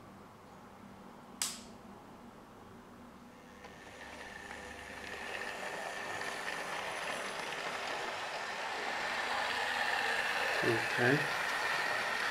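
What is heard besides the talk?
Hornby Duchess of Hamilton model locomotive running on track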